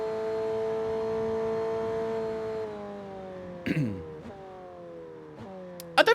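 Racing car engines in a driving video game, a steady droning whine that shifts down in pitch midway, with a few sharp bursts near the end and a voice briefly audible.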